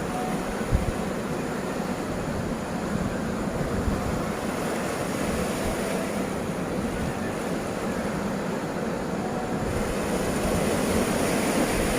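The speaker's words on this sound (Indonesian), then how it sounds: "kita dengarkan dulu suara debur ombak ini" Steady roar of ocean surf washing onto a shore at Pancana Beach near a river mouth in Barru, continuous and fairly loud, with some wind noise over the microphone and no voices.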